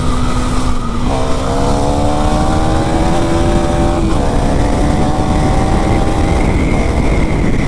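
A KTM Duke 390 single-cylinder motorcycle engine in very poor condition runs loud and close, its tone rising and falling through several revs with strong harmonic whine, steady throughout with no talk.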